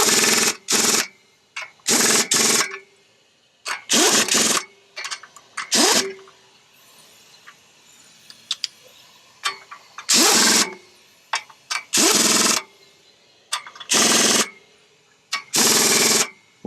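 Power tool running down pressure plate bolts on a 1991 Dodge Ram D250 during transmission work, in a series of loud, sharp bursts with short pauses between them, close by and with no talking.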